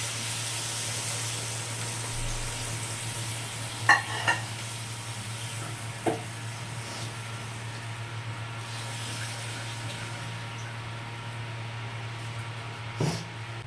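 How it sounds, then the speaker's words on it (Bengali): A potato and paneer curry sizzles steadily in a pan after hot water is added, a soft continuous hiss over a low hum, with a few sharp clinks of a spoon against the pan and no talking. "এবার আমি এর মধ্যে গরম জল দিয়ে দিচ্ছি"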